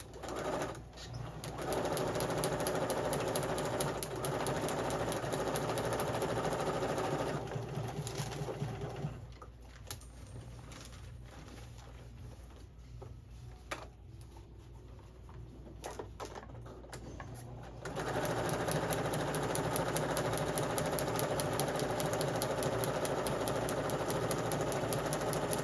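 A sewing machine run without thread by a nine-year-old girl practicing straight lines, circles, squares and reversing, giving a steady mechanical whir that drops back partway through, then returns at full level, with no talk.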